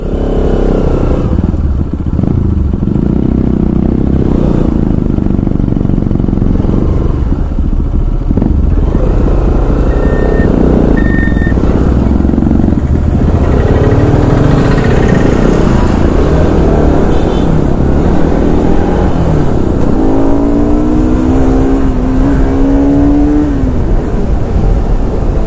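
A Bajaj Pulsar RS200 motorcycle with a loose chain rides along a rough road, its engine loud and close throughout with rising and falling revs and some clatter.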